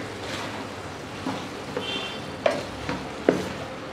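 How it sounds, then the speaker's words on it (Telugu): A pot of sambar with drumsticks and mixed vegetables is stirred, giving a soft, steady bubbling and wet swishing with a few louder clinks of the spoon against the pot. "ఒకసారి బాగా కలుపుకొని"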